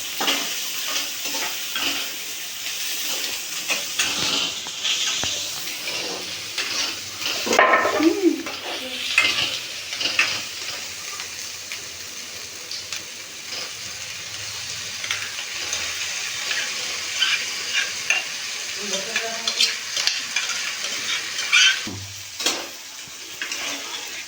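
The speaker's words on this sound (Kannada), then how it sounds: "ಗ್ಯಾಸ್ನ ಲೋ ಫ್ಲೇಮಲ್ಲಿ ಇಟ್ಕೊಂಡು ಮೊಸರು ವಾಸನೆ ಸ್ವಲ್ಪ ಮೊಸರು ವಾಸನೆ ಕಡಿಮೆ ಆಗೋವರೆಗೂ ಸ್ವಲ್ಪ ಫ್ರೈ ಮಾಡ್ಕೊಳ್ತಾ ಇರ್ಬೇಕು ಚೆನ್ನಾಗಿ." Marinated paneer coated in curd masala fries and is stirred in a pan over a low gas flame, giving a steady close sizzle with scraping spoon strokes and occasional utensil clinks, no talking.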